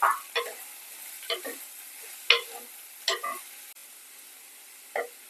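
Green chilli and salt being stirred in a pan for Kerala thoran, a handful of separate scraping strokes at an uneven pace, close and fairly quiet, with no voices.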